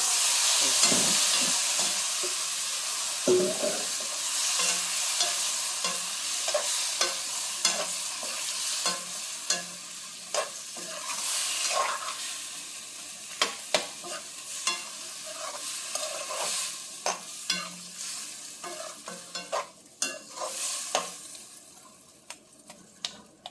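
Bitter gourd stirred and fried in a pan, with a steady sizzle under repeated sharp scrapes and clicks of the spoon against the metal, close and fairly loud throughout, plus a faint hint of running water.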